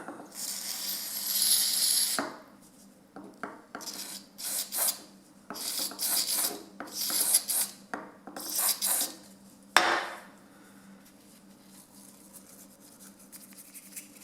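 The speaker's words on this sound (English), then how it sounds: "Got a real soft bristle brush here." A soft bristle brush scrubs a car key fob in short bursts of close, dry rubbing and scratching, separated by pauses, with no talk.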